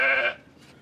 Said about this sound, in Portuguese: Nunca vi uma ovelha tão rebelde.